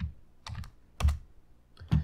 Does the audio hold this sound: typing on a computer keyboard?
yes